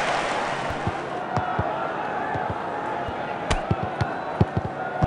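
A stadium crowd in the football video game Dream League Soccer 2019 keeps up a steady, broad roar, with sharp thumps of ball kicks and impacts breaking through at irregular intervals.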